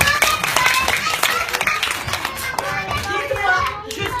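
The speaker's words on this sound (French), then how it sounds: "Applaudissez-les très fort." Children clap and cheer loudly in a classroom science workshop, a burst of uneven hand claps mixed with excited kid voices, close and busy for the whole stretch.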